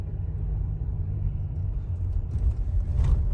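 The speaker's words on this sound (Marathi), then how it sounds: "आता बर्फातून गाडी चाललेली आहे." A car rolls through snow on a high mountain pass around 16,000 to 17,000 feet in Ladakh, heard from inside as a steady, heavy low rumble that swells slightly toward the end.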